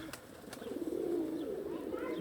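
Faint, soft pigeon cooing rises and falls quietly against low background noise, with a couple of brief taps.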